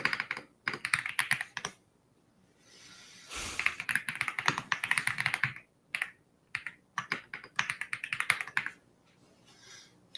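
Keystrokes on a computer keyboard clatter in quick irregular bursts, typed at a terminal while working with Vault, with brief pauses between flurries and no talking.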